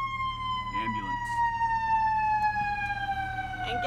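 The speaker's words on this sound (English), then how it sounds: "Ambulance." An ambulance siren wails steadily as it passes a camper van on a road trip, its tones sliding slowly downward over about four seconds beneath the hum of the moving van, with a brief voice in the cabin.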